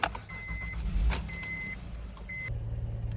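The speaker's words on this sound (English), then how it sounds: "Now turn the car on once again." A Honda Pilot with a check engine light and cylinder misfire codes is started: a key clicks and jingles, the starter cranks briefly, and the engine catches into a low rumbling idle at close range.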